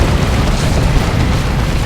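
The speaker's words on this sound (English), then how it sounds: "Look at the explosions from the Whirlwind." Whirlwind artillery explosions in the video game Dawn of War 2 during a Space Marines versus Tyranids battle, a loud continuous roar of overlapping blasts and booms.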